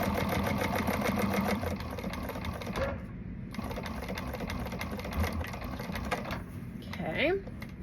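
A domestic sewing machine top stitching fabric runs steadily at close range with a fast mechanical chatter, pausing briefly near the middle and again near the end, with a short squeak of fabric handling at the close.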